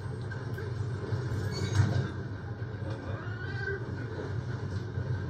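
A horse neighs once in the open-world western game Red Dead Redemption, a short whinny rising over a steady background rumble of game ambience.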